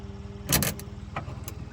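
A 1975 Ford Transit MK1 diesel engine cranks in a cold start attempt, a close, pulsing mechanical churn with a brief loud burst and a few sharp clatters.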